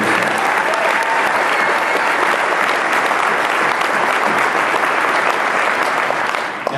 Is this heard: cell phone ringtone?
no